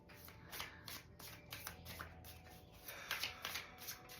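Tarot cards are shuffled in quick, soft riffling bursts, close and quiet, repeating in an uneven rhythm with no talking.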